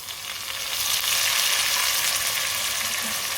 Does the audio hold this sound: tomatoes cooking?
yes